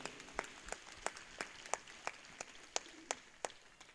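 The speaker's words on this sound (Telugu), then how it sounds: "చప్పట్ల కొడదాం పిల్లల దేవునికి" Congregation clapping in rhythm during a church prayer gathering, a steady beat of about three claps per second, moderately distant and fairly faint, with no speech over it.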